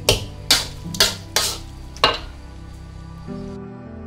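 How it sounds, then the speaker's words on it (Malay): Kway teow noodles and bak choy tossed in a hot pan, with repeated sharp metallic scrapes and clanks of the utensil at a steady rhythm over a continuous sizzle, close and loud. "Kita gaul-gaul, kita semuanya rata."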